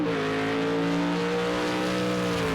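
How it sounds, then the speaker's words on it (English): A Mercedes Group C race car engine in Project Cars 2 at Le Mans holds a steady, loud high-pitched drone, its tone shifting slightly as it runs continuously. "Fantastic sound coming out of that Mercedes."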